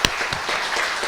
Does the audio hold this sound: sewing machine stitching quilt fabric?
no